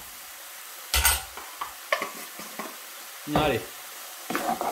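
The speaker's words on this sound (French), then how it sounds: "On va venir mélanger tranquillement et on va cuire ça encore quelques minutes hein, pour caraméliser un peu la viande." Ground beef seasoned with ketchup and a pinch of turmeric is stirred in a hot pan, producing short bursts of sizzling and scraping between quiet gaps, close by, with a brief spoken word.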